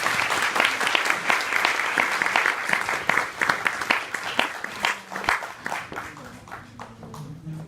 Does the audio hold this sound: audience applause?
yes